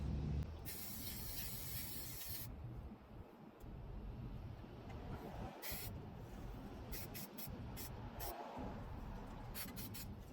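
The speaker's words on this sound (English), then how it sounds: "I am going to put in the first coat of black paint I have." Spray paint puts a thick first coat of black onto a surface, a soft hiss that comes in short intermittent bursts over a low, steady background rumble.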